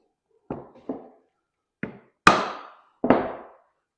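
A wooden sliding dovetail joint is tapped into position with five sharp, separate knocks spaced irregularly, each crisp and close with a short ringing decay in a quiet room.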